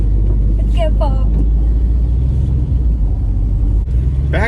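A classic Ford Thunderbird rumbles at a steady low pitch while cruising, with the engine drone constant under brief talk from people inside.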